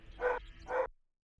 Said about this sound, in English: I don't know why the dog's upset